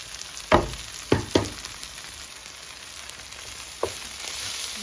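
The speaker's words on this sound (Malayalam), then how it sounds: "വെളുത്തുള്ളി ഒന്ന് വഴറ്റിയെടുക്കാം." Garlic sautés in a pan for a Kerala-style prawn roast, a soft steady sizzle broken by a few sharp clatters of stirring, close by with no talk.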